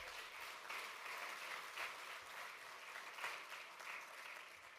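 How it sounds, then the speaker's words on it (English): Steady applause from a conference audience at a labor union political gathering, a dense even wash of clapping heard at some distance and fairly faint. "Give them a round of applause"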